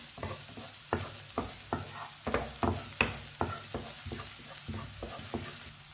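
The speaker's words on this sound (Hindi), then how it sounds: "बारीक कटा हुआ सब्ज प्याज डालेंगे। एक मिनट के लिए पका लेंगे।" Finely chopped green onions fry in hot oil, sizzling steadily while a utensil stirs and scrapes the pan in regular knocks, close and moderately loud, with no talking.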